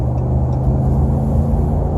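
A stock Ram pickup truck's V8 engine rumbles steadily and loudly at close range, a deep continuous drone with no voices.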